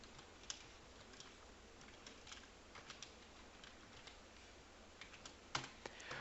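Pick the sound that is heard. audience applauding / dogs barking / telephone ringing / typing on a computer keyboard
typing on a computer keyboard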